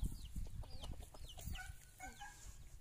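Chickens cluck in a rapid overlapping chatter, several birds close by giving short rising and falling calls, with low rumbling handling noise underneath and no speech.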